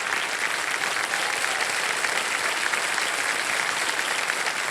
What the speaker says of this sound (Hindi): कृष्णा जी के लिए जोरदार ताली बज जाए।